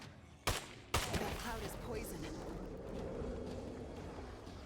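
Two sharp gunshots ring out in quick succession in the zombie survival game State of Decay 2, followed by a lingering rumble and scattered noise, with no talk.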